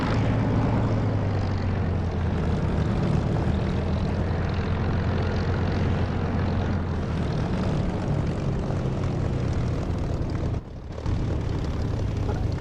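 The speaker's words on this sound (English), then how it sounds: "Well, it's an aircraft." Steady propeller-driven aircraft engine drone from the DCS flight simulator game, a continuous loud hum with a strong low tone that briefly dips near the end, with no talk over it.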